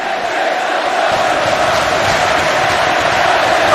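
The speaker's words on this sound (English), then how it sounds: "this crowd is going berserk" A dense, roaring crowd cheers continuously at a Roblox WWE Monday Night Raw wrestling event, a loud, steady wall of noise with no clear breaks.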